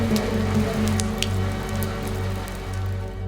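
Steady rain falls on a surface in a mountain camp in Tajikistan, giving a continuous dense patter with a few sharper drips, under a low constant hum.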